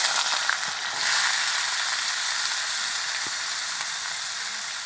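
Cut potatoes fry in oil with panch phoron, a dense, even hiss of sizzling that holds steady and close, with one or two faint taps from the utensil.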